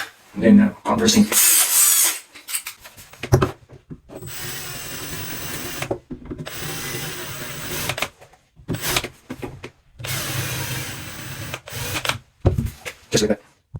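A power drill countersinks a hole in an IKEA Pax wardrobe unit, running in several short bursts of grinding whir separated by pauses, close and moderately loud, with handling clatter between the runs.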